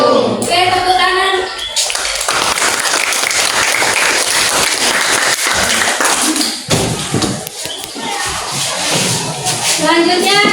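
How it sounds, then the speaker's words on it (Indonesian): Classmates clap for a group presentation in a classroom, loud dense applause lasting several seconds, with children's voices chattering before and after it. "Oke, tepuk tangan."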